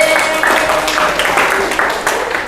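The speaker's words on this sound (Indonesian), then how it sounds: "Kasih tepuk tangan buat Sania nih." Applause from a group of teachers and students in a school classroom, a dense continuous patter of many hands clapping together at moderate loudness, with faint voices mixed in underneath.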